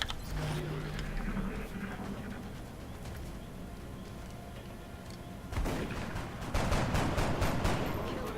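Shotgun fire in XCOM: Long War, a burst of loud booming blasts arriving late after a stretch of tense ambient rumble, dense and close with rattling reverberation.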